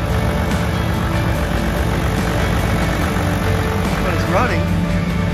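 Toyota 1HD-FTE diesel engine idling roughly after a wiring conversion, a steady low rumble with uneven running that continues throughout, plus a brief higher whine near the end.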